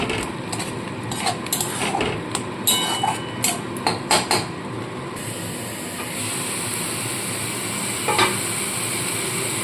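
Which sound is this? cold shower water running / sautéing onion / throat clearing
sautéing onion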